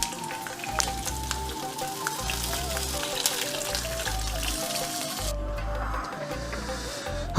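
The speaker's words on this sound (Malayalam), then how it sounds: "നമുക്ക് ഇനി പതിയെ ഇതിൽ നമ്മുടെ പായസത്തിലേക്ക് ഇട്ട് കൊടുക്കാം" Fried raisins tipped into bamboo rice payasam give off a soft, continuous sizzle under a background of music, ending in a brief louder clatter.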